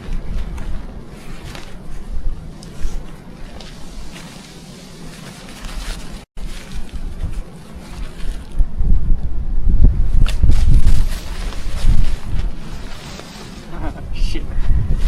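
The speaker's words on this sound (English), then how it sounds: "The wind and snow are getting really strong. Oh no, the wind is blowing my tent away." Strong, gusty wind roars through a forest during a -17°C snowstorm and batters a tent, rising and falling in loud rushes that build toward the end, with a person talking over it.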